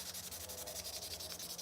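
A wooden tobacco pipe being sanded by hand, a steady scratchy rasp of abrasive on wood with even back-and-forth strokes, close and continuous with no voices.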